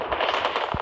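Rapid automatic gunfire in a first-person shooter game crackles in a dense, steady burst of close shots. It closes with a single low thump.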